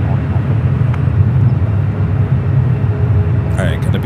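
A Boeing 787-9 airliner departs San Francisco airport, heard as a loud, steady low jet roar that fills the whole stretch, with a few brief higher clicks near the end.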